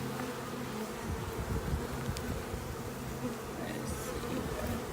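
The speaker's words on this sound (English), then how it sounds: "these are the little nurse bees that are all over the queen, and she is in there." Honey bees from a newly installed package swarm over a queen cage, nurse bees crowding around the caged queen, making a dense, steady, close buzzing drone that fills the whole stretch without any talk.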